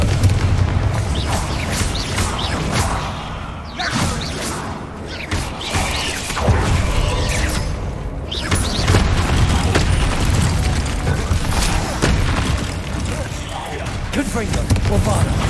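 Bombarda and Confringo spell blasts in Hogwarts Legacy, with a dense run of booming explosions and crashing impacts filling the whole stretch, loud and continuous, while a voice talks and calls out spells over the din.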